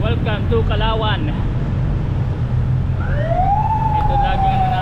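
A siren begins wailing partway through, rising into a long steady tone over low traffic rumble, after a bit of talking at the start.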